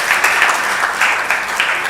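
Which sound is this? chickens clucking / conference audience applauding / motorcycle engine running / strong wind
conference audience applauding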